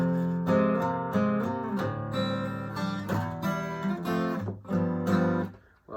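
Guitar slowly plays the intro of a song, strummed and picked chords at moderate volume, close and alone, ringing out before trailing off at the end.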